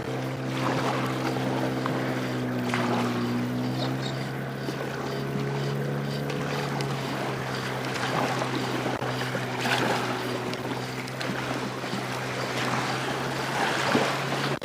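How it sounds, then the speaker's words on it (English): A fishing boat's hull pushes bow waves at sunset, steady water rushing and sloshing over a constant low engine drone, continuous and fairly close with no talk. "Gotta love bow waves, or bow waves as they're called."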